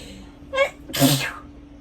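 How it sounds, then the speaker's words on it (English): A single sneeze, a short sharp intake followed by a loud burst, heard close up with a quiet background. "I gotta sneeze"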